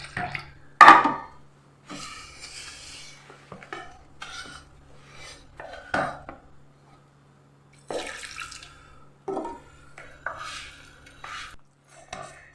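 Milk is poured into rice flour for pal puttu in a home kitchen, with soft liquid splashes and scattered clinks of utensils against a vessel coming in short, separate bursts with quiet gaps between them.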